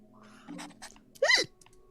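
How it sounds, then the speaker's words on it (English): A man hiccups, one sharp, loud, close hiccup standing out after a couple of softer breathy sounds in a quiet room. "I've got hiccups now."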